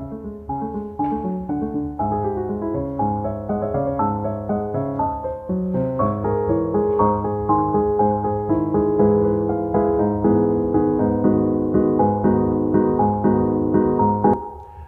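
A piano melody written by a recurrent neural network trained on MIDI files plays as a continuous stream of chords and notes with a steady pulse, alone and close, for about fifteen seconds.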